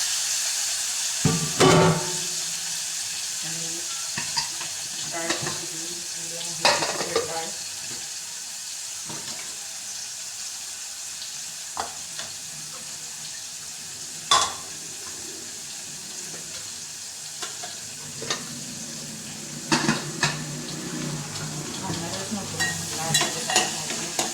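Hing, curry leaves, garlic and tomato frying in hot oil give a steady sizzle for a Marathi home-style masoor dish, broken by sharp clinks and scrapes of stirring, with occasional water running and a voice talking intermittently.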